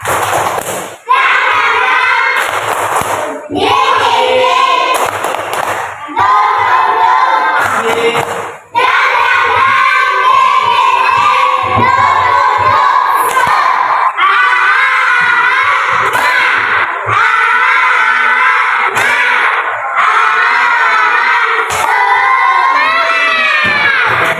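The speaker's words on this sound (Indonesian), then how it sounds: "Kalau gitu kita tepuk semangat dulu dong" A class of children at an Islamic education lesson performs a rhythmic spirit clap chant, loud group shouting and chanting punctuated by bursts of synchronized clapping, fairly close and continuous.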